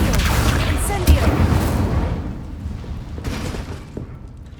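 Spells cast in the Hogwarts Legacy video game, Incendio fire blasts alternating with Accio pulls, make deep booming bursts and crackling rumble that swell early on and then fade. A voice is heard around them.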